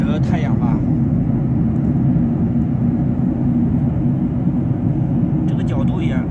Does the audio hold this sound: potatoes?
no